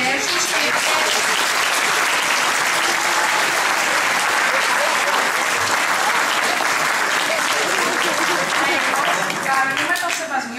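A hall audience at a church catechism-school Christmas celebration gives warm, sustained applause, a dense, loud wash of many hands clapping that holds steady throughout with no one speaking over it.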